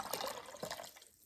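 Briefly, a mixture of water and vinegar splashes as it is poured into a pot holding cranberry and barbecue sauce, a soft, close liquid gush that trails off after about a second.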